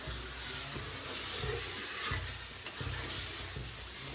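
Pav bhaji vegetables sizzle and fry in a pan in a home kitchen, a continuous close hiss broken by repeated scraping strokes of the stirring spoon.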